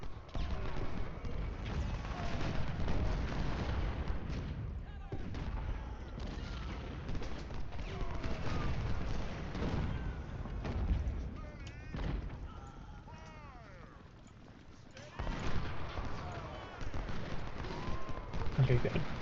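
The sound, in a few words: gunfire in the video game Ultimate General: Civil War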